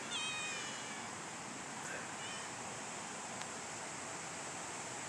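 A cat meows a few times near the start, then it fades under a steady hiss and rustle of outdoor background noise, with no voices.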